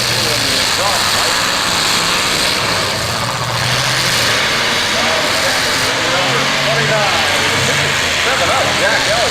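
Car engines run and rev at a demolition derby in Portage County, Ohio, a loud continuous rumble with an announcer talking over it on the loudspeaker.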